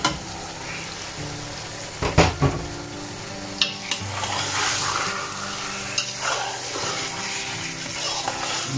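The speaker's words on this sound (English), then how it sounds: "Now fry the lamb chops" Lamb chops frying with onions in a pot for a traditional bhuna: a steady close sizzle broken by scraping stirs and a few sharp metal clanks of utensil against pot.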